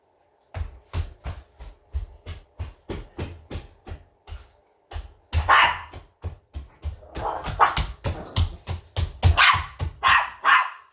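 A dog barks repeatedly in a steady run of sharp, loud barks, growing more intense and layered midway through, with short gaps between.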